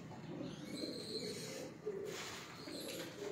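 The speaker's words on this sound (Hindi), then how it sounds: "कसूरी टब वाले कबूतर हैं, कमग्गर कबूतर हैं, गोल्डन कबूतर हैं" Pigeons coo steadily, several birds overlapping in a continuous low murmur from a loft of Kasuri, Teddy, golden and other fancy breeds, with faint chirps above.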